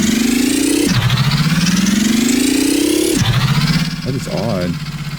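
A GearBlocks game engine drones loudly up close with a rising buzz, twice stumbling and dropping in pitch as it skips, then settling lower while a voice speaks briefly over it.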